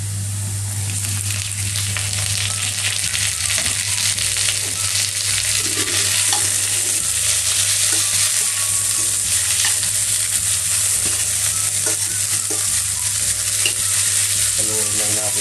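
Chicken breast with plenty of garlic, stirred in a pan while cooking for spicy honey chicken afritada, gives a steady, loud sizzle with a constant hiss and a low hum, crossed by soft scraping from the stirring utensil.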